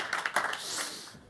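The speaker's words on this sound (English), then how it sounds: "Big round of applause" An audience at a conference talk claps and gives a standing ovation, with a few sharp individual claps at the start that spread into a fuller burst of applause before it fades out.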